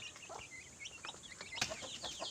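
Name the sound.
chickens and chicks clucking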